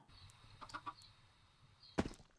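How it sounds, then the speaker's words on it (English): A Minecraft chicken clucks quietly: a few short clucks close together, then one sharper cluck a moment later, over faint background hum. "Chicken."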